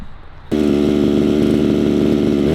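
A gas engine on a 1/5 scale RedCat RC truck, still in need of tuning, bursts into loud, steady running after a brief quiet moment and keeps buzzing evenly at close range.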